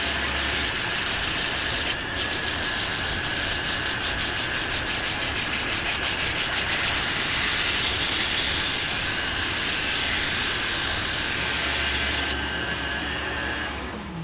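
Continuous hand sanding with 400 grit sandpaper: loud, steady rubbing strokes that carry on for about fourteen seconds, with a brief dip near the start and the scraping easing off near the end. No one speaks.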